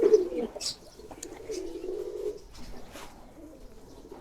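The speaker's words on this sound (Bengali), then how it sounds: "এই যে সাদা লক্ষার জোড়া" A pair of white Lakka pigeons coo nearby in soft, low, rolling calls, with a few faint chirps and quiet background sounds and no talking.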